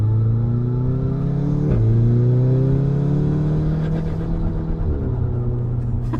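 An APR Stage 3+ tuned Golf R pulls hard under launch control, its engine a loud close rumble climbing in pitch through gear shifts marked by brief dips, with no talk over it.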